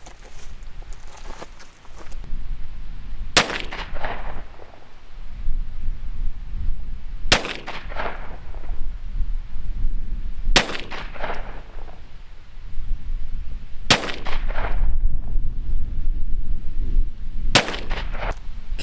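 Five loud, sharp pistol shots from an XDM Elite handgun loaded with 124-grain Federal HST rounds, fired outdoors at 15 yards, spaced roughly three to four seconds apart, each cracking out over steady background rumble.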